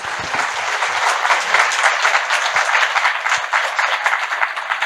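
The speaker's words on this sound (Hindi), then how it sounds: "एक बार जोरदार ताली योगी जी के लिए" Loud, sustained applause from an audience for Yogi ji, a dense wash of many hands clapping at a steady, full level throughout.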